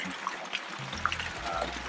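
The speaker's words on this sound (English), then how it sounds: "Nice little fountain to cool off with on your way up and down" A fountain near the Alhambra in Granada, water splashing and trickling steadily close by, with small bright droplet plinks over a continuous watery rush and low outdoor rumble.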